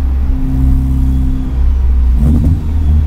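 A 400 hp Ford Focus ST's engine rumbles and revs continuously from inside the car while driving on backroads, with the pitch shifting around the two-second mark.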